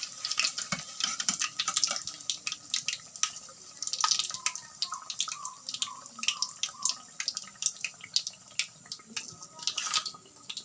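Banana bajji deep-frying in hot oil, a dense crackle of small pops and bubbling that rises and falls in bursts, close and fairly quiet.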